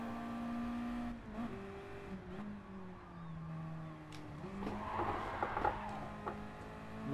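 A Mazda Eunos Roadster drifting in Gran Turismo Sport, its engine note sliding up and down through gear changes with rising revs and a burst of tire squeal near the end, fairly close and without talk.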